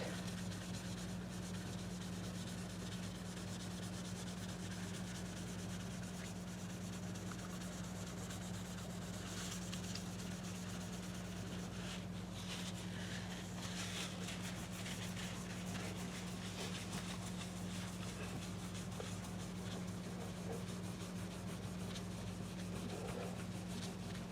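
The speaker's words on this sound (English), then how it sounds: "I'm just going to try to clean some of the dirt off this fretboard" A dirty guitar fretboard sprayed with Simple Green cleaner is rubbed and scrubbed by hand, a soft continuous close-up rubbing over a low steady hum, with no voices.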